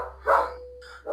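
A dog barks twice, short and fairly distant, heard indoors in a home kitchen with a low steady hum beneath and no talk.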